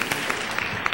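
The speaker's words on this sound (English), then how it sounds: "Give him a round of applause." Audience applause greeting a speaker called to the stage at a morning business presentation, a dense steady patter of many hands clapping for about a second with no voices over it.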